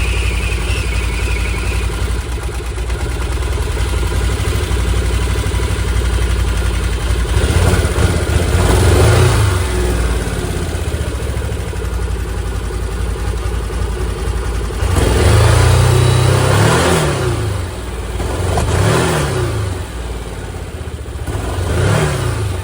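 A Can-Am Defender HD10 side-by-side with a failing fuel pump module starts and runs close by, its engine idling roughly with several revving surges toward the end.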